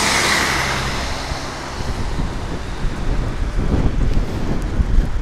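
Wind buffeting loudly across an outdoor street in Medjugorje, a continuous rushing roar with surging gusts that swell and fade, close to the listener, with no voices.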